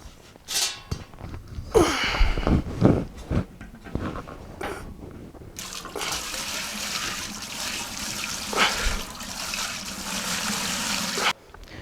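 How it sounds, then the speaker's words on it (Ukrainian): Wort poured back into a 40-litre brewing kettle, a steady loud rush of liquid running for several seconds after some sloshing and handling clatter, heard close with no speech. "у мене тут куб 40-літровий, і переливаємо все назад"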